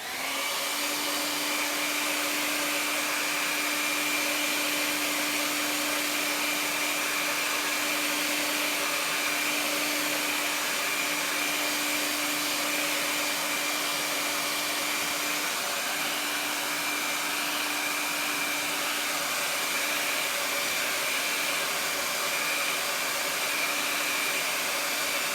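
Hair dryer drying a small craft project: a steady, continuous whirring blower hum held throughout at moderate, even volume, with no talk.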